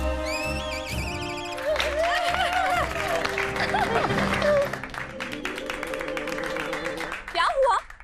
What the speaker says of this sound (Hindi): आप लोग तालियां क्यों बजा रहे हैं?